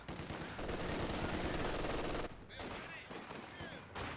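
Rapid machine-gun bursts from an MG42 in the Company of Heroes 2 strategy game, a loud sustained stream of automatic fire that cuts off abruptly, followed by fainter scattered shots and battle noise.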